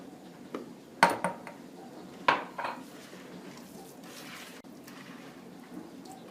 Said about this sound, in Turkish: Önce birazcık karıştıracağım bunları.